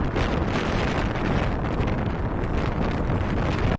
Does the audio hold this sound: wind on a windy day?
yes